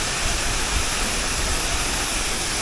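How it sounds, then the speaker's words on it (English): A waterfall about two meters tall on Jeju pours steadily, a dense, loud, continuous rushing hiss heard up close with no voices. "Waterfall."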